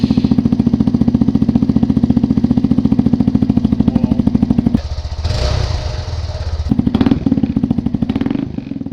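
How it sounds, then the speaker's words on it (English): A Honda Grom motorcycle with a Zoom exhaust idles from a cold start, close and loud, with a rapid, even putter that briefly shifts to a raspier blip before settling back to idle. "Cold start."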